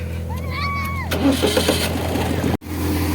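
A tractor engine cranks and catches, a short burst of starter noise giving way to a low, steady running rumble, with some voices and a brief whistle-like tone heard first.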